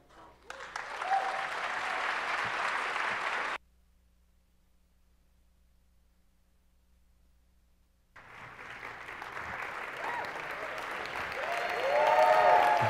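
Audience applause welcoming speaker Scott Hocking at the Michigan Theater, a dense burst of clapping that stops abruptly, then after a few seconds of quiet starts again and grows louder toward the end.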